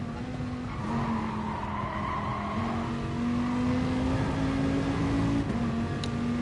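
A racing car in Gran Turismo Sport at Laguna Seca brakes hard and understeers. Its engine whines steadily as the tires squeal and skid continuously, loud and close throughout.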